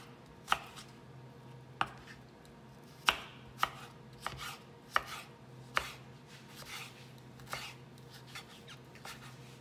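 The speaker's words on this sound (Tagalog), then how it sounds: "Tapos hiwain natin siya ng strips," Vegetables for a turkey club wrap, seeded and then sliced into long strips on a cutting board: about a dozen sharp, distinct knife thuds at an uneven pace, close and clear over a quiet background.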